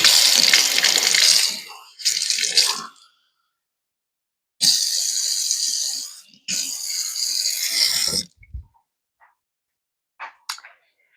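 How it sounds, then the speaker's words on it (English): Warm water gushes noisily from a tap into a cup in two long bursts with shorter splashes between them, close by, ending in a few faint clinks and drips. "I'm going to get a cup of warm water real quick."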